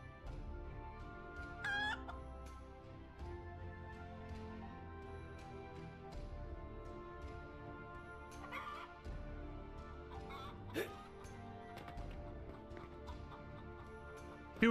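Farmyard poultry in the game Noble Legacy: hens cluck and a rooster crows a few times over a soft musical bed, with an occasional dog-like bark in the mix, no voices.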